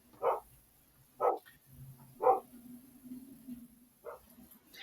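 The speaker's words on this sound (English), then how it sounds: "That's my dog Zoe." A dog barks at the mailman indoors, four separate mid-loud barks spaced about a second apart, the last slightly softer, with faint low murmuring between them.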